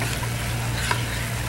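A mixture simmers gently in a pan over low heat for a Philly cheesesteak, a steady close hiss with faint bubbling over a low hum, heard alone without talk.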